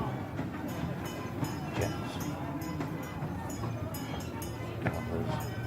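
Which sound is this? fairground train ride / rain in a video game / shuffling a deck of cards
fairground train ride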